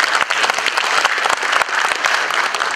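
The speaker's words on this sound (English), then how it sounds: "Round of applause for sure." Steady applause from an audience at a Bangalore professional meet, many hands clapping densely and continuously for a few seconds, loud and close, with no talking over it.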